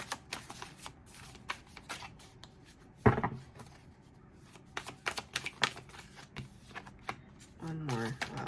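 A deck of tarot cards is shuffled by hand close up, with a steady run of rapid riffling and flicking card noises, a brief voice near the end.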